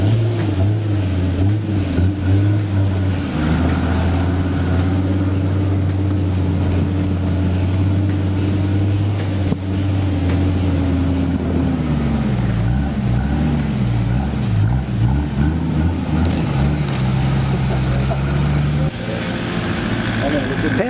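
A 4WD truck engine labors steadily climbing a steep hill, its low drone shifting in pitch as it strains uphill, loud and continuous throughout.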